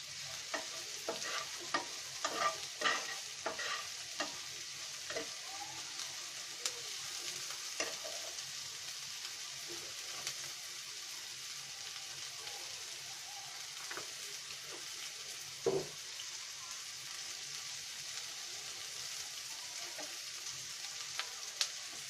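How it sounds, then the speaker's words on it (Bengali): Onions with a pinch of salt frying in a pan, a steady close sizzle broken by repeated scraping stirs, busiest in the first few seconds and then spaced out, with no talking. "এক চিমটি লবণ দিয়ে দিব আমাদের পেঁয়াজটা ভাজা হওয়ার জন্য"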